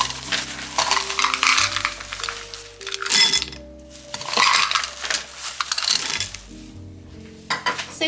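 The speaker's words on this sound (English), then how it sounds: "I'm just stirring the white chocolate because it's almost melted." A spoon stirring nearly melted white candy melts in a bowl, soft scraping and occasional clinks against the sides, heard under background music.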